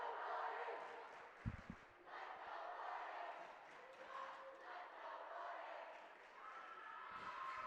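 Rival high school student sections at a volleyball senior night chanting and cheering together, a loud, sustained crowd roar with rhythmic rises and a few sharp bangs, continuous throughout.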